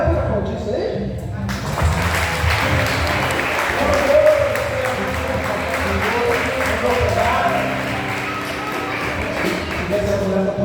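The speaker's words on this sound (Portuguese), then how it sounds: "A mulher pode aplaudir isso aí" A church congregation applauds during a worship service, producing sustained, fairly loud, dense clapping mixed with crowd murmur and shuffling.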